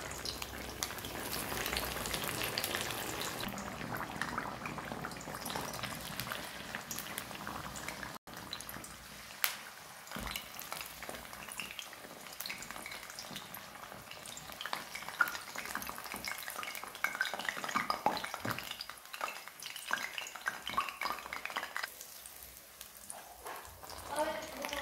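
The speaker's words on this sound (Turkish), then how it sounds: "Şimdi ortadan ikiye böldüğüm patlıcanları kızartıyorum." Hot oil sizzles and crackles steadily as eggplant halves fry, a busy frying hiss with occasional faint stirring sounds.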